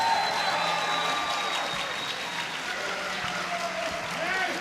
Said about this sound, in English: I think another round of applause for these guys right off the bat